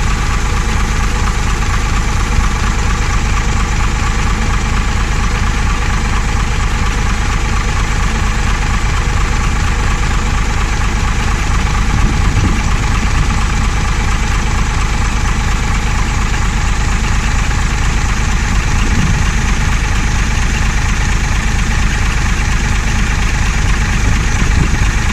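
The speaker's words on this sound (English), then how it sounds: "I gave her Gardner 6LXB engine a run-up." A Gardner 6LXB diesel engine in a Bristol VR bus idles steadily throughout, a low, constant rumble with a slight rhythmic knock, close by and with no voices.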